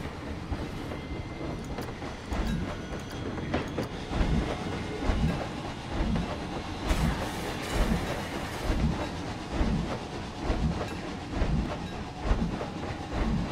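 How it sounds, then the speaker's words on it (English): Train running on a ride in the Planet Coaster video game, a loud, steady rumbling roll with rhythmic clickety-clack of wheels and occasional hissing, continuous throughout with no talk. "Fine, I'll turn the train on for a second."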